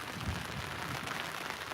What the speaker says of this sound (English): it's not raining very heavy at the moment here